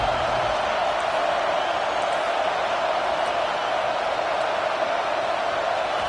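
A packed stadium crowd at a football game roars steadily and loudly throughout, a dense, continuous wall of cheering with no break.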